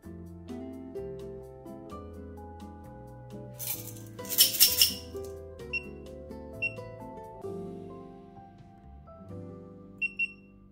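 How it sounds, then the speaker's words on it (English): Digital coffee scale beside an espresso machine, giving several short, high beeps spread across the clip over a background of clinking, a brief rattling burst and musical tones. "I'm not yet used to the scale, so it keeps beeping."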